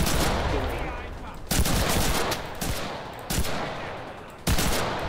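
Gunfire rattles in the World War II shooter game Enlisted: loud, close bursts of automatic fire, with sharp onsets about every second and a half over a continuous battle din.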